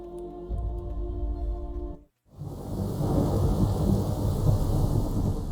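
Steady, dense rain hisses in The Witcher 3: Wild Hunt after a brief silence. It follows a stretch of sustained music and stays loud and unbroken to the end.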